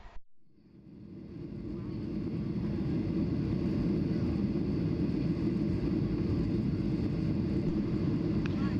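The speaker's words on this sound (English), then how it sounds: "here's an example of arriving on Taula'i by jet" A jet airplane arriving at the Pacific island of Taula'i, a deep, steady roar that builds over the first couple of seconds and then holds loud and constant, with no voices.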